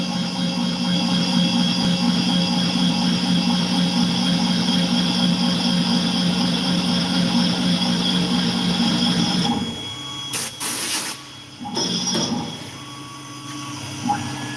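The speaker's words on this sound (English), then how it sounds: "So I'm just boring some holes here." A machine boring holes in gun parts runs with a steady mechanical drone and tonal whine, then stops near the end, leaving a few short clanks and knocks, close and fairly loud.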